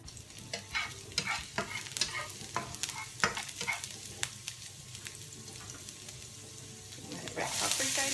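Garlic sizzles in hot oil in a pan while a utensil stirs it, giving irregular scraping taps over a continuous frying crackle, with the sizzle swelling louder toward the end.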